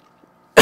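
A single sharp cough bursts out at close range right at the end, after near silence.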